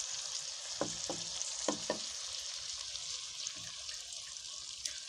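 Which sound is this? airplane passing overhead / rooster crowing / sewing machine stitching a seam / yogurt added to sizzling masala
yogurt added to sizzling masala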